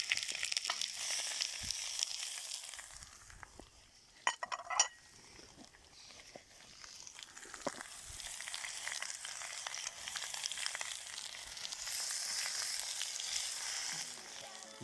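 Potatoes and pork heart with onion frying in a cauldron over an open fire in a forest, a soft steady sizzle with a few metal clinks and stirring scrapes, no talking.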